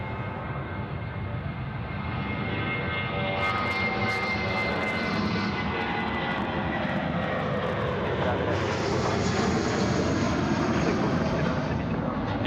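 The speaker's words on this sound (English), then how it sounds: "Going to have the nice Jetstar livery coming out in the A321 down there at 34 right." A Jetstar Airbus A321 taxiing at Sydney Airport toward runway 34 right, a steady loud jet engine roar and whine heard from a distance outdoors, rising slightly in pitch later on.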